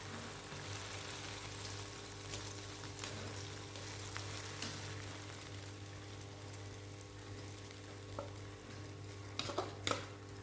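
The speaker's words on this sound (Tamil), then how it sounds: "அது நெய்லியே போட்டு நல்லா வறுத்துக்கலாம்." Pieces of bun roast in ghee in a pan for bun halwa, with a soft, steady sizzle under a low hum and occasional scraping of the stirring spoon that grows louder toward the end.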